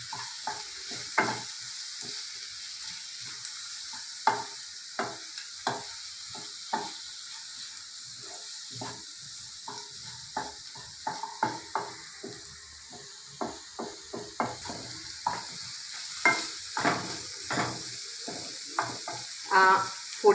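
Kashmiri chili powder and spices stirred in a hot pan for a curry, a soft continuous sizzle broken by repeated scraping stirs at an uneven rhythm, close and fairly quiet, with no voices.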